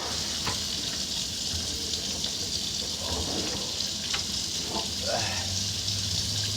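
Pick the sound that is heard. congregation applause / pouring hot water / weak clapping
pouring hot water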